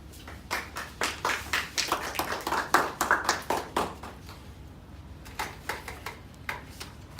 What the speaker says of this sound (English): We're going to give a big round of applause to Miss Scarlett Nance